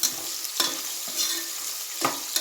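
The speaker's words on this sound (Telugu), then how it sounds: "నేను మిక్స్ చేసుకొని మళ్ళీ ఒక టూ మినిట్స్ రోస్ట్ చేసుకుంటున్నాను" A spoon stirs biryani ingredients roasting in a hot pan, with a steady close sizzle broken by several sharp scraping strokes at an uneven rhythm; nobody speaks.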